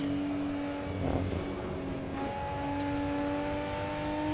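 A Japanese-pack DLC car engine in the racing game Assetto Corsa drones at a steady pitch with faint tonal whine, a brief swell partway through and a slight pitch shift, continuous and moderately loud throughout.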